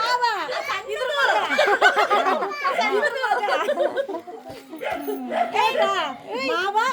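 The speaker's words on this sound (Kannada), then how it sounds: "ಇಲ್ಲಿ ನಾಯಿ ಇದೆ, ಬಗಳ್ತಾ ಇದೆ ಗೈಸ್." A dog barks and whimpers close by at a family home, with repeated yelping calls and whines mixed in among people talking.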